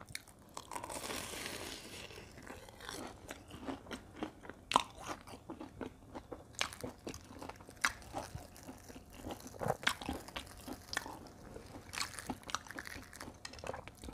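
Someone bites into crispy batter-fried durian, producing repeated close, sharp crunches and crackles with chewing in between, fairly quiet overall and steady across the whole stretch.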